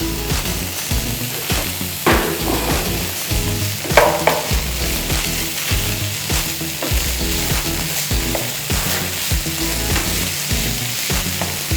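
Capsicum fries in a pan for a Spanish omelette, a dense continuous sizzle with rhythmic scraping and stirring strokes, close and steady, no talking.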